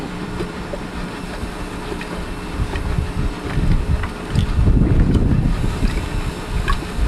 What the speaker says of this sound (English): It sounds a lot like a steam engine, steam locomotive if you listen up close.